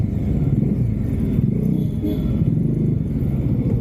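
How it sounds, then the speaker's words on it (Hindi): A Bajaj Dominar 400 single-cylinder motorcycle runs close by, its engine and exhaust making a loud, continuous low rumble with a steady throbbing texture throughout. "इसका एग्जॉस्ट नोट काफ़ी अच्छा है"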